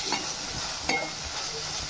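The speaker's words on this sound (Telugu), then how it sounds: "టమాటా బాగా మగ్గిన తర్వాత దీంట్లో రుచికి సరిపడిగా కారం, అలాగే కొంచెం గరం మసాలా కూడా వేసుకుని ఒకసారి కలిపేసుకుందాం" Chili powder and garam masala are stirred into a tomato fry in a pan: a quiet, soft sizzle under a few spoon scrapes and clinks, without speech.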